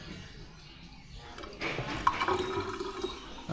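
A kitchen sink tap in a camp dining kitchen is turned on partway through, and steady running water follows after a quiet start.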